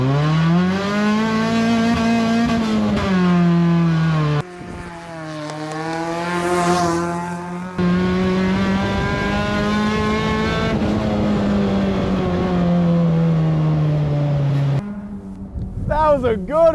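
A cheap, track-ready Ford ZX2 race car launches hard and accelerates through the gears, its engine note rising loud and close in repeated sweeps with brief drops at each shift, fading out near the end.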